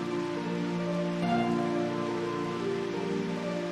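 Steady rain pattering on surfaces in a video game cloudburst, a continuous even hiss of drops with faint tonal game sounds beneath, unbroken and moderately loud throughout.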